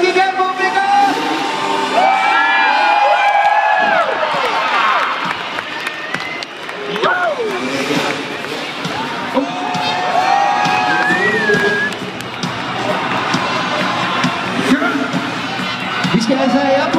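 A large crowd at a supercross freestyle show in Herning cheers, whoops and shouts continuously, loud and close, with whistles and yells rising over the roar.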